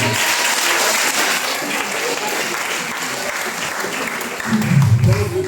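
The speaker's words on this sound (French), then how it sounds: "On applaudit." An audience claps in a Methodist church during a harvest festival service. The dense, sustained applause fills the room and swells near the end as a voice joins in.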